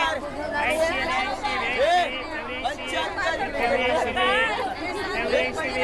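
Crowd of customers clustering around a samosa stall, a steady babble of many overlapping voices chattering at close range without pause.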